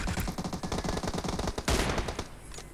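An M24 sniper rifle in the battle-royale game BGMI: dense, rapid gunfire rattles throughout, with one sharper, louder shot standing out partway through before the fire thins toward the end.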